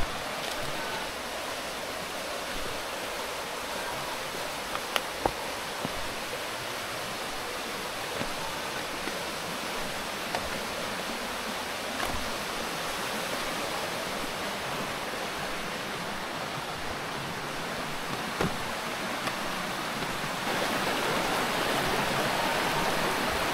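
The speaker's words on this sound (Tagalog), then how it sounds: "medyo may ilog na rito" A river flows steadily near Bantakay Falls on Mt Pinagbanderahan in Atimonan, making a continuous broadband rush of water that stays fairly loud and even throughout, with no voices.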